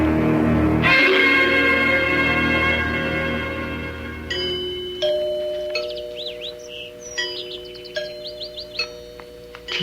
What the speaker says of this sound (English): Did you hear the chimes? It sounds like the bell in our tower.